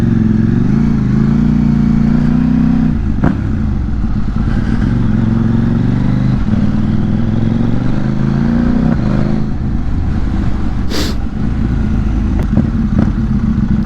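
A motorcycle with a quickshifter is ridden on the road, its engine droning loudly and close with wind rush, pitch rising and dropping through quick gear changes.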